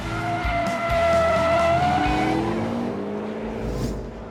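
A BMW M5 drifts at the SEMA 2019 show with loud, sustained tire squeal over a revving engine. The squeal shifts in pitch as the car slides, and no one talks.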